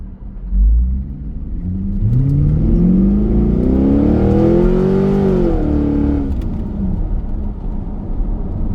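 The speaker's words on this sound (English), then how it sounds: "Do one with the exhaust valves open." A 2002 C5 Corvette with its exhaust valves open rumbles loudly at idle, then revs in one smooth rise that climbs for several seconds, peaks and drops back to a steady low idle burble, with no talking.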